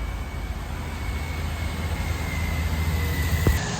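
Suzuki Swift RS 1.5L engine, 2005-2011 model, idling steadily after starting, with a constant low hum and a faint whine held throughout at close range.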